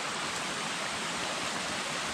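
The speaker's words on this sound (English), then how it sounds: "I'm walking right through the water" Feet splash through shallow water on a cave walk over worn, mossy ground, heard as a steady, close, broadband wash of water with no distinct individual steps.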